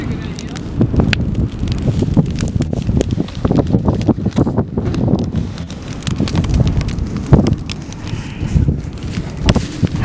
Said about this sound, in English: Hello, wind.